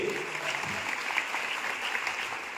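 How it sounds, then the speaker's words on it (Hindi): A crowd at a women's honor event in Ulhasnagar claps in a steady, dense burst, the sound even and sustained throughout with a faint voice briefly audible early on. "अरे एक बार इसके लिए भी तालियां जोरदार बनाइए।"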